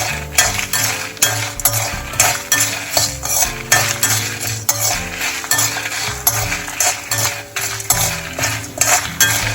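Chana dal, coriander and red chili are sauteed in a pan over a raised flame. A metal spoon scrapes and clatters against the pan in a steady repeating stir over a soft sizzle, close up and with no talking.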